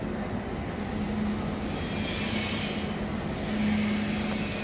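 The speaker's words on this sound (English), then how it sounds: "switch on the motor switch." Stirrer motor on a magnesium stir casting furnace, running as a steady loud drone with a constant low hum and broad noise that shifts slightly in brightness partway through.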